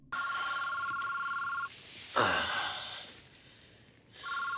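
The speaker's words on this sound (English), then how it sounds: "Pick up the fucking phone right now." A telephone in a TV drama rings in a steady electronic trill, pauses while a person sighs heavily, then starts ringing again near the end, clear and prominent.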